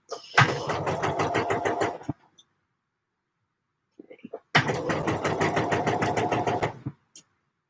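Sewing machine stitching a Deer and Doe Lupin jacket, running in two loud rapid bursts of rhythmic needle strokes with a quiet pause between them.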